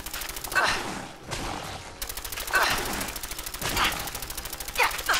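Laser musket fire in the video game Fallout 4: repeated crackling shots and rapid pulsing bursts, loud and close, with short breaks between the volleys.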